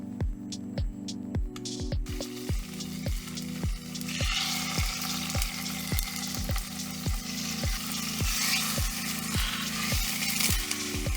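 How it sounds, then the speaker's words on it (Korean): Tofu sizzles in a pan of sesame oil, a steady close frying hiss that builds after a couple of seconds and runs under a regular rhythmic tapping throughout. "팬에 참기름 한 큰술을 먼저 두른 후 물기를 제거한 두부를 구워줍니다."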